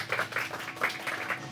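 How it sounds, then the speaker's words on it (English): An audience claps to welcome a speaker onto a stage, a brief burst of dense, continuous applause from a crowd at moderate distance. "Put a big round of applause for Gazal."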